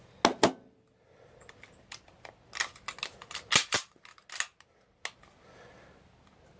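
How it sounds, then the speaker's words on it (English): A CZ-52 surplus pistol being cleared, with its action worked in sharp, close metallic clicks and clacks, a pair at the start and then an irregular cluster of snaps, in quiet surroundings. "now let's clear the weapon"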